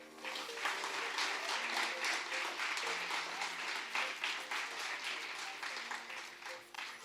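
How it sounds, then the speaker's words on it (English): Sustained audience applause for a film crew and filmmakers at an evening event, dense and steady clapping filling the room throughout with a slight dip midway. "let us just give the crew, the filmmakers,"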